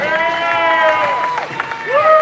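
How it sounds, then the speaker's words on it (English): Crowd at a live training event in Las Vegas cheers and applauds steadily throughout, with whoops rising over the dense clapping and a voice calling out above the noise. "Give him a round of applause."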